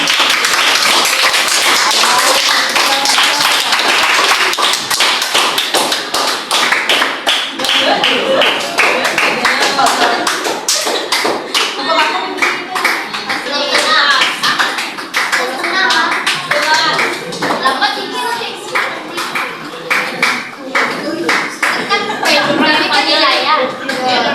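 Loud, sustained audience applause fills the room, with dense overlapping claps and taps continuing steadily at a gathering following a request to clap.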